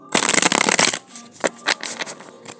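A deck of tarot cards is riffled and shuffled close up in a dense burst of papery flutter for about a second, followed by a few softer taps and slides as the cards settle.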